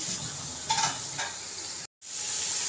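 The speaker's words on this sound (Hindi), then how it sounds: "यहाँ पे हमारे प्याज फ्राई हो रहे हैं, प्याज का कलर चेंज हो गया है।" Onions fry in a pan for a chicken pulao, a steady close sizzle with a few stirring scrapes, broken by a brief total dropout before the frying resumes, with no talking.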